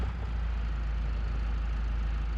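A farm tractor in a farming game idles steadily, a low, constant engine drone with no change in pitch, close and alone for a couple of seconds.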